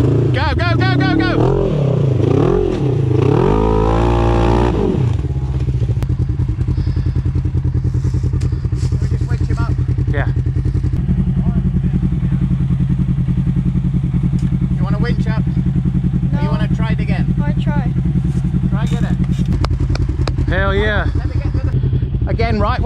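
A motorbike is driven hard up a dirt hill bank at half throttle, its engine revving and surging under loud shouting and talk, with clattering and thumps as it climbs.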